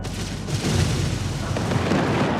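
Booming explosions and weapons fire hit ships in Homeworld 3, a loud dense rumble of blasts and bursts rolling continuously over a couple of seconds.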